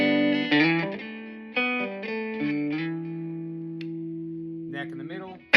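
An electric guitar on its neck pickup plays sustained, effect-laden notes and slides with long ringing decay, close and clear, separated by brief pauses.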